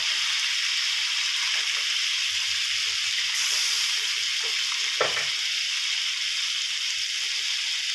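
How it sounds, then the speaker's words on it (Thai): Chicken stir-fried with curry paste and pickled bamboo shoots in a hot pan, a constant loud sizzle with occasional scrapes of the spatula, close and continuous, with faint voice traces underneath. "ผัดคลุกเคล้าไปให้ทั่วนะครับ"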